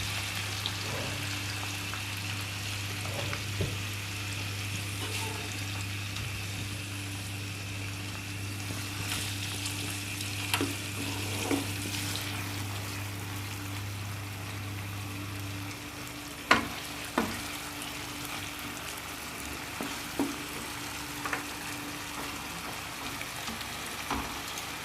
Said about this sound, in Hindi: इसको अच्छी तरह से भूनेंगे।